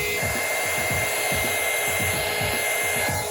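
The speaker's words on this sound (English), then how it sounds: "Now I'm just gonna use the heat gun to shrink the shrink wrap." A heat gun blows a steady, loud whooshing stream of hot air, shrinking heat shrink tubing over wiring while BMW E60 5 Series headlight halos are converted to LEDs; close and continuous throughout.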